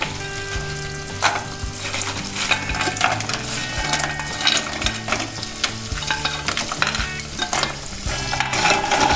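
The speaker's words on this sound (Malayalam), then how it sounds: "ഇത് നന്നായി മിക്സ് ചെയ്യാം." Fried bread pieces are stirred into Manchurian sauce in a hot pan, with repeated rhythmic spatula scrapes and knocks over a steady sizzle, close and fairly loud, with no talking.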